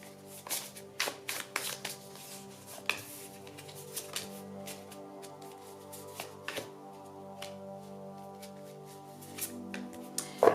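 Tarot cards are shuffled and drawn by hand in a quiet room, giving close, soft riffling flutters and a scattering of sharp card slaps and taps at an irregular rhythm.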